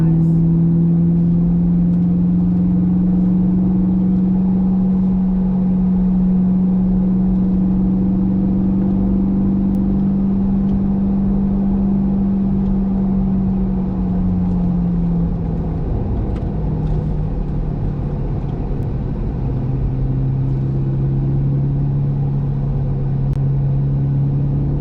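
A C8 Corvette's mid-engine in track mode climbing Pikes Peak, a steady loud droning rumble that rises and dips with throttle through the turns, continuous throughout with faint speech in the background.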